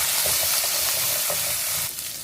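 Red chillies and shallots fry in a pan, a close, steady crackling sizzle with small pops and stirring, dipping slightly at the end.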